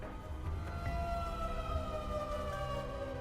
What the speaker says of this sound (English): Air raid siren?